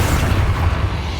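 A Confringo blasting spell explodes in Hogwarts Legacy, a loud, dense rumbling boom that fills the short moment with a steady, heavy low roar.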